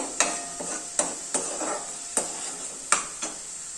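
Mint rice mixture fries in a pan with a steady sizzle, punctuated by about eight sharp scraping stirs of a spoon against the pan at irregular intervals, close and clear with no voices.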